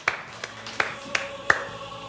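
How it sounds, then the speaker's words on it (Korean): A church congregation claps in a few sparse, separate bursts during a Wednesday worship service, moderately close in a reverberant room. "우리의 모든 죄를 사신 주님께 영광과 찬양의 박수를 올려드립니다"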